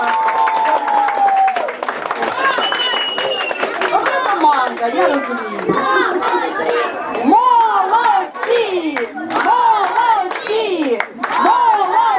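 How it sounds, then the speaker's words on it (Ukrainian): Steady clapping from an audience at a children's sports award ceremony at a summer camp, with excited kids chattering and calling out over the applause throughout. "Дружніми, дружніми оплесками,"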